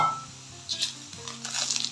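Semolina (rava) roasting in a pan for kesari, soft intermittent scraping and light sizzling as it is stirred, close and fairly quiet.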